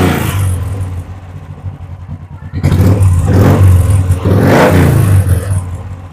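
A used motorcycle at a bike showroom idles, then revs up loudly in two strong bursts after a brief drop, engine noise close and dominant with no talk.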